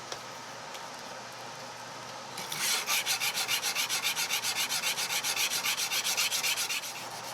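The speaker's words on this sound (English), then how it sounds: "I alternate the direction of sanding strokes between grits" An 8-inch Damascus steel chef knife blade is hand sanded with strips of sandpaper, a quiet scrape followed by a run of quick, even back-and-forth rasping strokes, close and steady.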